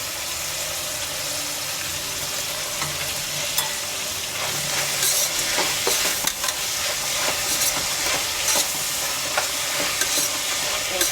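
Vegetables and tomato for a vegetable pulao fry in hot oil, a steady loud sizzle with scraping and clinking as a utensil stirs the pan, no speech.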